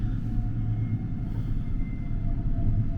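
Interior of the moving Santa Claus Express passenger train in Finland: a continuous low rumble of wheels and carriage noise, loud and steady with faint rhythmic rattling.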